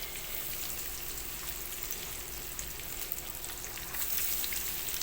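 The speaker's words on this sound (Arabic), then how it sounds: "ننزل بالزيت سخن واحدة واحدة تدريجيا كده، ما ننزلش مرة واحدة بالكفتة بتاعتنا" Breaded kofta sizzles in hot oil, a soft, dense crackle that holds steady and grows a little louder toward the end, close and without voices.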